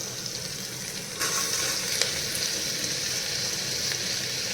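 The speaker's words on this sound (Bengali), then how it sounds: "আমার পেঁয়াজটা মোটামুটি ভাজা হয়ে গেছে" Onions frying in a pan on the stove for a home-style Punjabi rajma chawal, a steady close sizzle that stays loud throughout, with a brief stir of the pan partway through and no talking.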